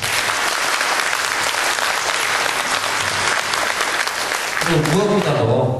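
A large audience at a political gathering in a New York hotel claps steadily and loudly throughout, dense and sustained applause that begins thinning near the end as a voice starts to come through.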